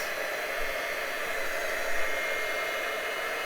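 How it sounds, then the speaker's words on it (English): A heat gun melting embossing powder blows with a constant, loud hissing whoosh, steady and unbroken from start to finish. "You want to melt all your powder, and it gets nice and shiny."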